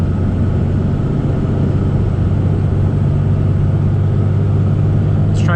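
A 2001 Dodge Ram 2500 Cummins diesel pickup with a six-speed manual drives along, its engine a loud, steady low drone and rumble heard from inside the cab, with no clear break for a gear change.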